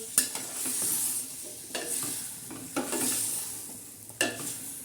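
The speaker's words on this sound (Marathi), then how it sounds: "आता एक चक्की टाकली आपण मस्त असं छान असं हलवून घ्यायचं" Chakki vegetable is stirred in a sizzling pan for a spicy bhaji with peanuts and green chillies, with a few scraping strokes of a spoon against the pan over a constant frying hiss.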